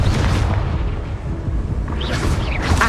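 A Confringo fire spell blast in the Hogwarts Legacy video game, heard as a sustained, loud booming burst with crackling, explosive energy throughout and a brief whooshing flare near the end.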